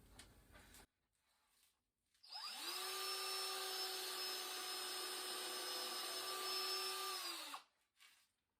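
A power drill bores into a wooden shelf, a steady loud whine that holds for about five seconds before spinning down, alone without talk, with brief handling noise before and after.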